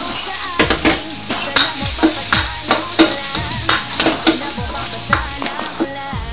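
Garlic sautéing in a pan for miswa soup, loud close frying with rhythmic stirring scrapes and metallic pings of a utensil against the pan, repeated every half second or so.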